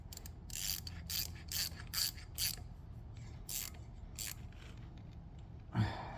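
A ratchet wrench tightens a plug on the travel drive of a vintage Bobcat 100 excavator, giving bursts of close, crisp clicking in quick repeated strokes, then a pause and a final dull knock.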